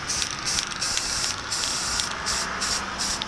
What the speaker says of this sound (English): on wood, it's probably a little bit better of an idea to just spray paint